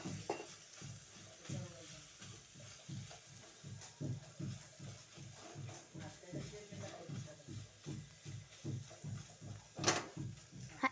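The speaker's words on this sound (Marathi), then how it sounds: "दोन्ही मसाले टाकून मिक्स करून घेऊया." Macaroni pasta is stirred with Maggi masala and pasta masala in a pan, giving a regular rhythm of soft scraping strokes about twice a second over a faint sizzle, quiet and close, with a louder clatter near the end.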